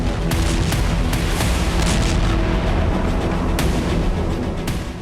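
Serial explosions from a Russian missile strike on Dnipro, Ukraine rumble as a dense, continuous barrage of booms with sharper blasts scattered through, loud and sustained without any speech.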